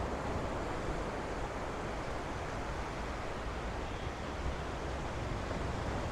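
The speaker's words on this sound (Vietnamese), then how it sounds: "Quá mạnh luôn, tiếng sóng biển dạt dào luôn." Strong sea waves wash continuously onto the beach at Quy Nhơn at night, a dense, steady roar of surf with no breaks between swells.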